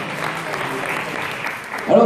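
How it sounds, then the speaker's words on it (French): Audience applause at a live French stage show, a steady wash of clapping filling the whole stretch and swelling louder near the end, with voices mixed in. "on l'applaudit très très fort."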